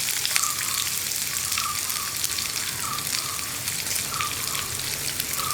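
Onions and curry leaves sizzle and crackle steadily in hot oil, a dense close frying hiss with faint popping throughout, no voices.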